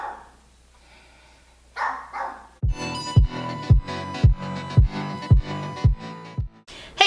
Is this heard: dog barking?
yes